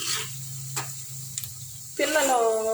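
Masala frying with okra for pulusu hisses softly beneath a low hum, with a few light stirring taps, and a voice comes in near the end.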